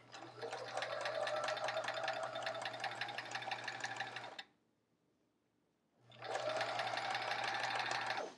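Sewing machine stitching a quilt block with a new presser foot, a loud close whirring drone with fast needle rattle, running four seconds, stopping briefly, then starting again.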